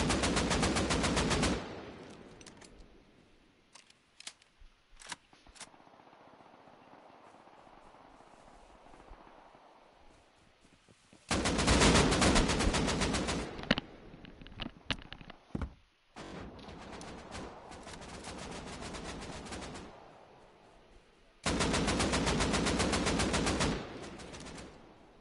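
Long, loud bursts of automatic gunfire from suppressed guns in a video game, including a suppressed M2, arrive in three sustained volleys separated by quieter stretches of scattered single shots.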